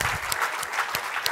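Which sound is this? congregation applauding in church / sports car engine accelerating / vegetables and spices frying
congregation applauding in church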